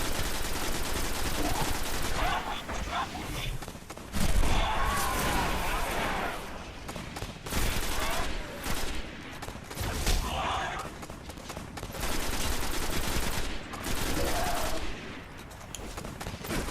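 Repeated shotgun blasts in the Destiny video game, loud booming shots amid dense combat noise, with someone talking over the action throughout.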